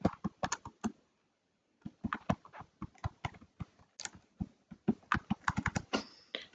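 Typing a product title on a computer keyboard, with quick close key clicks in bursts broken by a short pause, then a denser run of tapping, and no voices.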